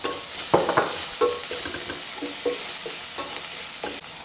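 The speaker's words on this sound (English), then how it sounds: "now we use it to saute the white section of the green onion, ginger and garlic" Chopped white green onion, ginger and garlic sizzle in hot leftover frying oil while being stirred, a steady close crackling hiss broken by scraping stir strokes, with no talking.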